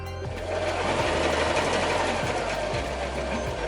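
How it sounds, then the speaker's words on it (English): A sewing machine runs zigzag stitches on upcycled jeans being made into a skirt, a close, fast mechanical whir with rapid needle clatter that starts after a brief pause and keeps a steady pace throughout. "Zigzag stitch, keep it nice and flat."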